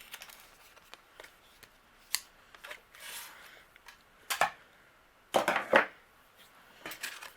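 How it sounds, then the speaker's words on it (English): Scissors trimming overhanging card paper in a craft setup, a series of short dry snips and crisp paper rustles spread unevenly, with a denser cluster of cuts near the end. "I'm going to use my scissors. And I'm going to trim away anything that's overhanging"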